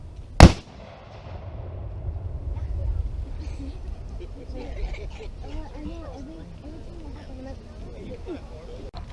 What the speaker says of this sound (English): So that was really neat getting to see them fire the cannon today.